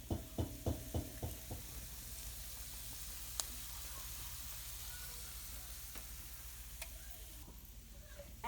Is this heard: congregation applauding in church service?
no